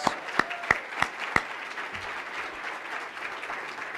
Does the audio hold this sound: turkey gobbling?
no